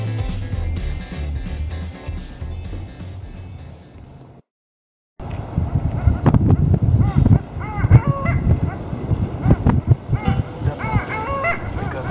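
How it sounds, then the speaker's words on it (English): A flock of harlequin ducks calls in a marina, with repeated nasal squeaky honks and yelps over background noise, loud and near, broken by a brief silent gap partway through. "Awakened in the marina by a flock of harlequin ducks"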